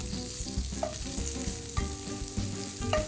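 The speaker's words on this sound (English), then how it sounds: "Let's just flip this tofu over like this." Tofu seared in a pan and flipped while cooking hoisin tofu, a steady close sizzling hiss running the whole time over a tonal background bed, with no voices.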